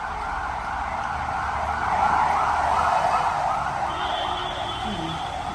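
An ambulance siren wails, swelling louder as it passes and then fading off, with road traffic rumbling underneath.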